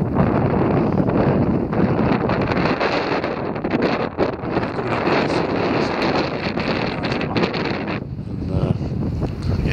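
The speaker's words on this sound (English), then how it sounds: "That wind really is getting up." Strong wind buffets across open moorland at night, a loud, continuous roaring rush with gusty swells battering the microphone throughout.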